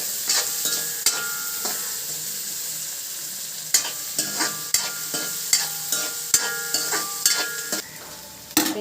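Onions sautéed in a pan for a northern-style tamarind tuna fish curry, with a steady sizzle broken by repeated sharp scrapes and clinks of a spoon stirring against the pan, close and clear.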